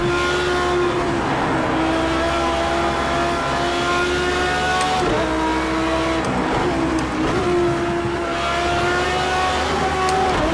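A GT3 race car's engine in Project CARS 2 screams steadily at high revs, loud and close, with brief pitch dips at gear changes and faint tire scrubbing underneath.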